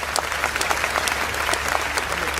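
Audience applause at the close of a Hindi comedy poetry recital, steady dense clapping filling the hall from start to finish with no speech over it.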